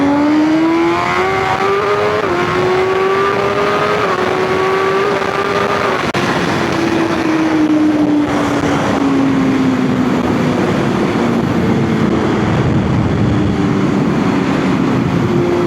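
A BMW M1000R motorcycle with a full Akrapovic exhaust revs loud and close, its engine pitch climbing and easing across repeated throttle blips in a sustained, raspy roar.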